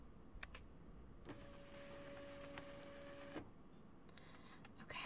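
Printer printing in the video game Life Is Strange, a faint steady mechanical whir with a thin tone lasting about two seconds, bracketed by soft ticks and clicks in a quiet room.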